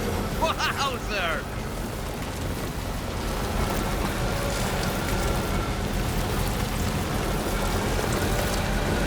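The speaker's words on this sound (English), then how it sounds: "Oh, it's raining." Rain falls steadily in the video game Death Stranding 2, a constant even hiss throughout, with a brief voice near the start.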